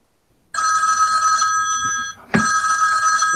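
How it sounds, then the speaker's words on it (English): An old-style telephone bell ringtone rings loudly from a cell phone, a continuous metallic trill that stops briefly for a short gap and then starts again, heard alone and close. "That is the greatest fucking ringtone."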